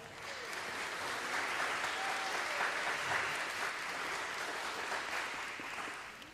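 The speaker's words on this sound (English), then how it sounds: "You are all very much appreciated and deserve a round of applause as well." An audience at an elementary school choir Christmas concert applauding, a sustained wash of clapping that rises in and tapers off over about six seconds, fairly soft and distant.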